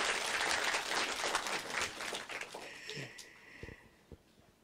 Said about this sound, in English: Okay, give applause to Prof. Kang.